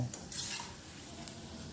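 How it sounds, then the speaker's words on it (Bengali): Onion pakoras frying in hot oil make a faint, soft, steady sizzle, with a light utensil clink or two over the short stretch. "দিয়ে দিলাম সব পেঁয়াজ পকোড়াগুলো। এবার ভেজে নেব।"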